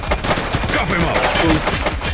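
A rapid burst of loud, close gunfire in the police game The Precinct, dense overlapping shots rattling for about two seconds.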